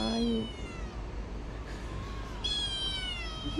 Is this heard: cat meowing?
yes